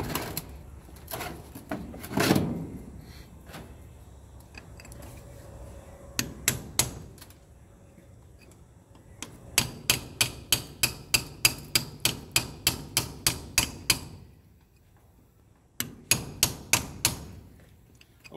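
Hammer blows against a huge geode being hand-cracked with common tools, sharp ringing knocks close by, from scattered single strikes to long rapid runs of evenly spaced hits, separated by quiet pauses.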